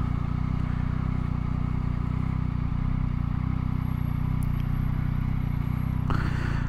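A 2022 Yamaha MT-09 motorcycle engine drones steadily while riding, a constant low hum with a faint high whine, and a brief rise in pitch near the end, close and continuous without talk.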